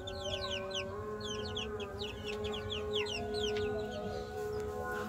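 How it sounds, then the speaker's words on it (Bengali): A pair of young Brahma chickens cluck in a backyard coop with sand flooring, steady soft clucks over busy chirping and low hum, with no voices. "আর এইখানে আছে এক জোড়া ব্রাহ্মার বাচ্চা।"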